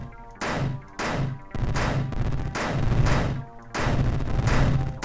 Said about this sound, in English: anytime this missile's spawned, or this explosion is spawned, it is going to make the sound